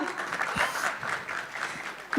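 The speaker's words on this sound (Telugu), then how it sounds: "అది చప్పట్లు ఫర్ ఊహా." Audience applause for a child artist at a film event, light scattered clapping heard close, with a voice speaking over it and a louder burst right at the end.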